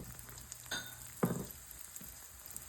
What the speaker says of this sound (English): Put it in this hot oil.